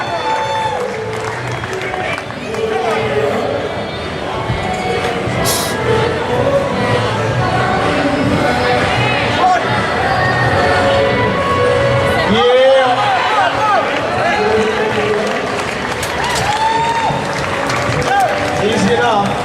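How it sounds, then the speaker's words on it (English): Crowd at an IPF powerlifting squat meet gives a long, loud round of applause and cheering through a big 270 squat, with hall noise, shouts and announcer talk mixed in throughout. "Give him a round of applause, biggest squat we're going to see all day."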